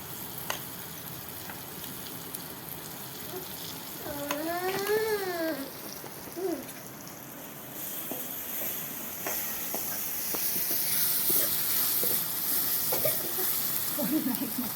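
Red chili powder goes into hot peanut-fritter gravy, giving a steady sizzling hiss that swells louder partway through, with a voice talking briefly over it.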